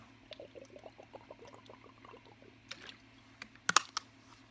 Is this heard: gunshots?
no